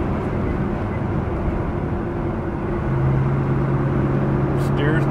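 A 1963 Corvette Coupe cruises on the highway with a steady, even drone of engine and road noise inside the cabin, a low tone settling in midway, while someone talks over it.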